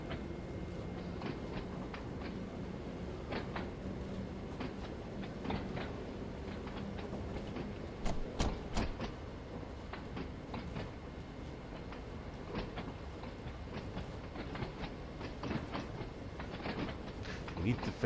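Train running on rails in Train Sim World 2, a continuous rumbling rolling noise with rhythmic clickety-clack and occasional sharp clicks, steady throughout while a person talks over it.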